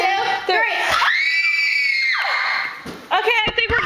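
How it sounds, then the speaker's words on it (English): Several people scream together in one long, loud, sustained shriek lasting a couple of seconds, with excited chatter and shouting just before and after. "Let's all scream at the same time."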